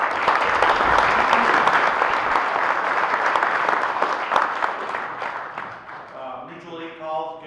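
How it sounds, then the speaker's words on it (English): A round of applause from the audience at a LeRoy fire department officer installation ceremony, loud dense clapping that gradually thins and fades while a voice starts talking near the end. "Please give everybody a round of applause."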